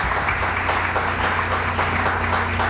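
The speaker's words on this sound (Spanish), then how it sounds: "Un fuerte aplauso para él." An audience applauds as company managers stand to be introduced, a steady wash of clapping that is moderately loud and continuous for a few seconds.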